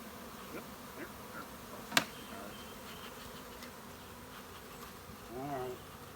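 Honey bees buzz in a steady, faint drone around a hive during a honey harvest, with a brief sharp click partway through and a slightly louder buzzing pass near the end.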